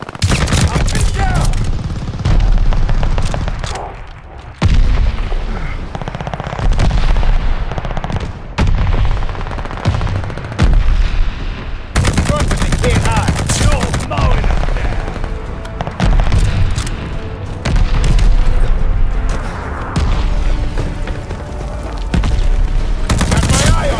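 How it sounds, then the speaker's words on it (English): Dense, loud bursts of gunfire and heavy booms from mortar fire in the multiplayer video game Call of Duty: Vanguard, continuous and chaotic, with explosions recurring throughout. "Friendly mortar fire coming."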